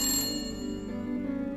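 A telephone rings unanswered, a steady electronic ringtone that sounds close and clear, with no voices over it.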